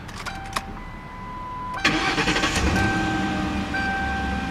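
A 2008 Ford Crown Victoria Police Interceptor cranks briefly, then its engine catches with a sharp burst and settles into a steady, close idle with a faint whine above it.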